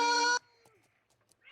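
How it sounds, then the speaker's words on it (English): A loud, close cat meow, one sustained harmonic cry that cuts off abruptly, followed by faint, quiet room sounds. "My cat is so loud."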